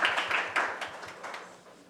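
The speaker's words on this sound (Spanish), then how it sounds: "Le damos un aplauso" Small group applause at a parliamentary meeting: a brief scatter of distinct handclaps that fades out within two seconds.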